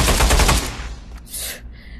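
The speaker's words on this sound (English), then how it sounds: "you have your AR-12, which you can fire" A single loud shotgun blast from an AR-12 in the VR shooter Pavlov, an explosive burst that rings out briefly, followed by a mechanical clack and metallic action noise as the sound fades.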